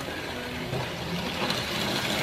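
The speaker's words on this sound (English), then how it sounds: "It's a cute little steam engine." Small HO scale model steam locomotive running on a layout, a steady close mechanical whir and hum with a faint rhythmic chuff, continuous and moderately loud with no talking.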